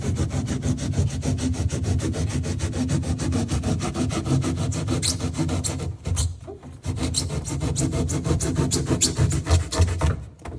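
Thigh hook foam on an Apex Ringer being trimmed, a steady close rasping and rubbing with fast regular strokes, continuous for about ten seconds apart from a short pause midway.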